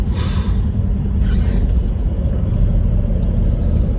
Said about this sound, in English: this car is driving really nice. Just listen to it.